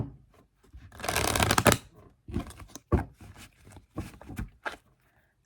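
A deck of oracle cards is shuffled in one loud, dense burst of riffling, followed by a string of softer card taps and slides, close up with no talking.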